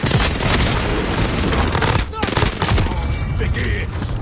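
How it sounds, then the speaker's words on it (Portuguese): Continuous gunfire from the video game Call of Duty Warzone, dense rattling bursts and booming shots packed tightly together, loud and close with a brief lull midway, a voice talking over it. "Estão atirando em mim"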